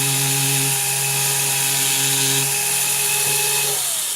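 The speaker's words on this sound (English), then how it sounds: "put a drill bit on it and then drill into the prong just a little bit" A small high-speed flex shaft rotary drill whines steadily up close, its pitch shifting slightly as it bites into a metal jewelry prong for a gemstone setting, with no talking.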